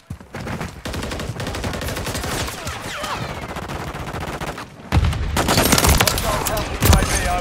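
Heavy gunfire in a video game shooter, long rapid-fire volleys and overlapping bursts at close range, briefly quieter midway before a louder barrage resumes.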